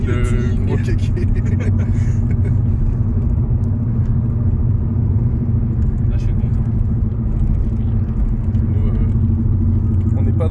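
A BMW 318is E36 engine runs at a steady idle nearby, its deep continuous rumble holding even throughout, while someone speaks briefly over it near the start.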